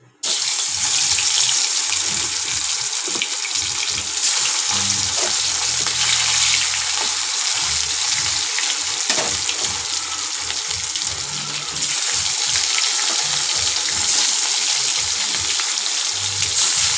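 Fish frying in hot oil in a home kitchen, a loud, steady, dense sizzle and crackle of spitting oil that runs unbroken throughout, close up, with no talking.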